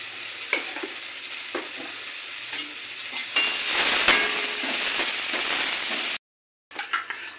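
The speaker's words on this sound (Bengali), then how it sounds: "পেঁয়াজটা আমার ভাজা ভাজা হয়ে গেছে।" Onions sizzle steadily in a hot pan with a little salt while being stirred, with scraping stirs on and off, a louder burst midway and a brief silent gap near the end; nobody talks.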